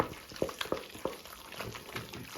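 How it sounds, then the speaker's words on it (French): A terrine mixture being stirred and worked in a bowl, soft wet squelching strokes repeating at an irregular pace, close and fairly quiet. "Très important, c'est de bien mélanger"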